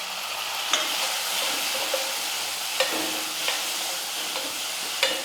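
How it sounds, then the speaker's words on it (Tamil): Onions and tomatoes fry in hot oil in a home kitchen, a steady close sizzle with occasional sharp crackles and pops, heard alone without any talk. "தக்காளி நல்லா வதங்கட்டும்"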